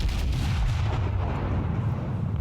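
Secondary guns of the battleship Warspite firing in World of Warships, a dense rumbling barrage of booming low blasts rolling continuously and loudly, no voices.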